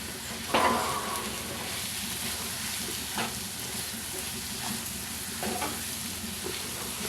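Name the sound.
stirring onions with chilli powder, turmeric and salt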